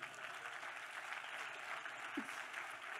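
Steady applause from an audience at a technical conference talk, a dense even patter of many hands filling the room with no voices on top, holding at a constant level throughout.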